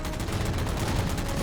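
Gunfire in the Halo 4 campaign as the player shoots down three jammers, a dense steady barrage of rapid shots with a constant loud level throughout, no talking over it.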